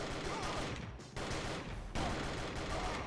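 An assault machine gun fires in the video game Dead to Rights: Reckoning, loud sustained bursts of rapid automatic fire with two brief pauses between them, dense and close.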